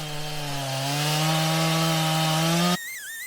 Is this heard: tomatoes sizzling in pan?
no